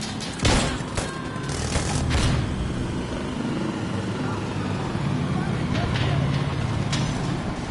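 Alpha AK rifle gunfire in the shooter game Insurgency, with a few sharp loud bursts early on over a rumbling battlefield din and a voice underneath.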